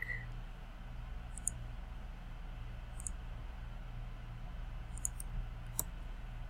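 Computer mouse clicks while site plan lines are drawn in drafting software: a handful of faint, sharp clicks spaced about a second or more apart over a steady low hum and background hiss, no talking.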